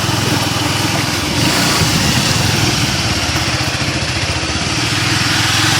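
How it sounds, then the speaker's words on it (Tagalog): A motorcycle engine runs steadily close by on a rural island road, a continuous buzzing drone with no pauses and no talk. "pang-arangkada yung motor"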